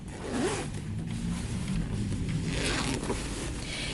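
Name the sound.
opening a clothing zipper on a sewn dress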